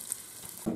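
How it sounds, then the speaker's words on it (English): Pepper pieces dropped into hot oil in a Ninja Foodi on sear mode give a short, soft sizzle that swells sharply near the end, brief and close with no voices. "Drop some a pepper in there just to see, you know, to get a idea when it's hot."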